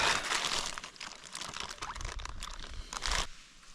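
A thin plastic supermarket shopping bag is crumpled and rustled close up in continuous crinkling bursts, loud and busy, with no talk.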